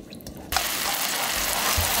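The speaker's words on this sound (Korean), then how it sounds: "양념이 바글바글바글 끓고 있죠?" Soy sauce seasoning with a little garlic boiling in a pan, a steady close bubbling and crackling simmer that swells in abruptly and holds at an even level throughout.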